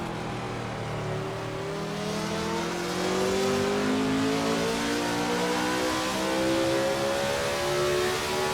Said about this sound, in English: Come on, let's catch John Love here. He just pulls away like a missile